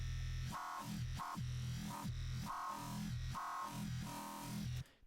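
A distorted synth growl bass made with FM8 in Ableton Live, with fry distortion turned up high, plays a choppy rhythmic pattern of gritty, buzzing notes with a rough, wobbling texture, then cuts off.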